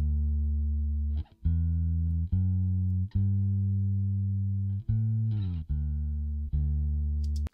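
A bass guitar track from a country demo plays sustained, clean low notes that change every second or so, with brief gaps between some notes, at moderate level with no voices.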